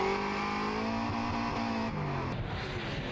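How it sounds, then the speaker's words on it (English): Drift car driven by Brad Toohey at Wakefield Park revs hard up through successive gear shifts, loud and close, engine pitch climbing then dropping at each change with a steady roaring drone. "Let's watch him pick these gears. 1, 2, 3, 4."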